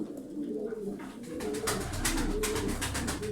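Smoky tumbler pigeons coo softly in their loft, low murmuring calls repeating over a faint fluttery background, with no voices.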